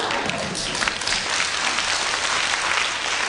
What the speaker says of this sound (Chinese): 你们不要鼓掌